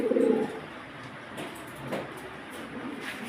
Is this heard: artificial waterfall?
no